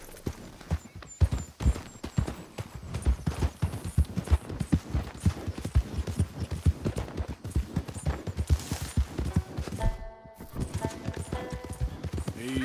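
Hooves clip-clop in a steady, fast galloping rhythm as a horse runs in the Red Dead Redemption 2 video game, loud and close throughout, with brief rattling bursts and a short pause near the end.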